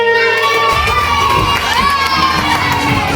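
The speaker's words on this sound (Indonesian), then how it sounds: "Ini kita tepuk tangan untuk kelompok dua." Children in a classroom shout and cheer loudly for a group of classmates, a dense, continuous burst of excited young voices filling the whole stretch with little pause.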